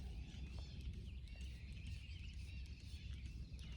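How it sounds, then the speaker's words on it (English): Faint, distant birds chirping and twittering in scattered calls over a low outdoor rumble in a cemetery on a cold day, no voices. "And listen to all those birds."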